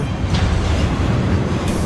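A train rolls along its rails in the Doom 3 video game, a steady loud rumble with faint clatter throughout, no voices.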